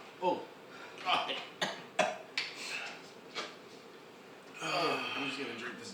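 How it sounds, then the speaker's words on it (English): A person coughs and clears their throat repeatedly in short, sharp bursts after eating very spicy hot ramen, close and loud, with people talking in between and afterward. "I just coughed up some hot juice"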